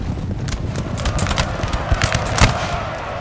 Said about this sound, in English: Yep, here come the light horse.